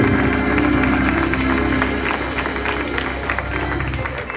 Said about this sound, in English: Clap your hands and give them our praise.